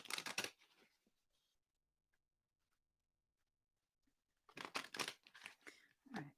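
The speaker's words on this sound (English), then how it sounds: "Here goes. One more shuffle." A few quick, crisp bursts of tarot cards being shuffled by hand, close to the mic, with a long near-silent pause between the first burst and the later ones.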